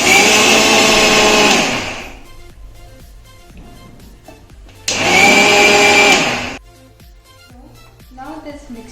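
An electric blender grinds a sesame seed and jaggery mixture in two loud, high-pitched bursts of about two seconds each, separated by quieter gaps with light handling sounds.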